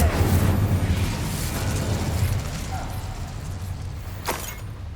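Casting the Incendio fire spell in Hogwarts Legacy gives a roaring burst of flame with a low rumble that fades over a few seconds, then a short sharp pop.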